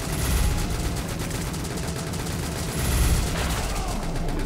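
Dense, continuous gunfire from the Contra-style video game Greedy Guns, a loud steady barrage of rapid shots with game music and effects layered throughout.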